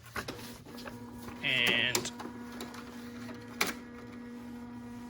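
A Canon TR4520 all-in-one inkjet printer takes in paper, with a short whirring feed burst, mechanical clicks before and after, and a low steady hum underneath while a person speaks briefly.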